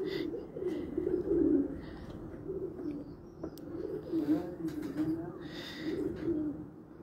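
Pigeons coo softly in repeated low, rounded calls, fairly close, while someone talks over them throughout.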